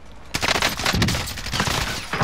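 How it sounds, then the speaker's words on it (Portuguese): Dense, loud automatic gunfire in Call of Duty: Modern Warfare, a continuous rattling barrage of overlapping shots that starts abruptly and keeps going without pause. "Estão atirando em mim?"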